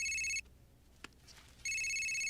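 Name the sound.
phone ringing, call from dad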